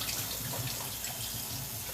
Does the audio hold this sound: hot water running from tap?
yes